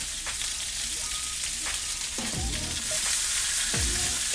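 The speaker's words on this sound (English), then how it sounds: "that's the noise you want to hear when you're searing something" A pork chop sears in a hot pan with a steady, loud sizzle and crackle, the frying hiss rising slightly toward the end with occasional pops, no talking.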